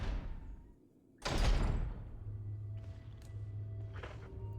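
A door creaks and thuds open in the Resident Evil remaster, with a loud burst followed by a low sustained hum and faint scrapes in the game's ambience.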